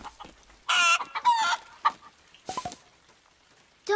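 A cartoon hen in a barn during heavy rain gives several loud, close clucks and squawks in short bursts separated by pauses.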